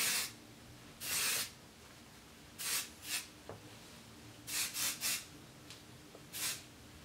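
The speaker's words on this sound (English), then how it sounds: "I'll actually go over my hair once over with hairspray" Hairspray is sprayed over hair in several separate close hissing bursts, some single and some in quick pairs, with quiet pauses between them.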